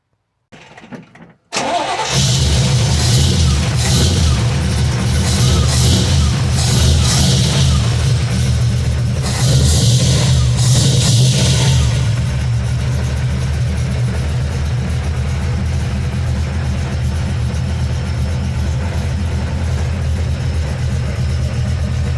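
A carbureted OBS truck engine cranks briefly, catches and settles into a loud, steady idle nearby, with a couple of early rises in revs before evening out; nobody speaks.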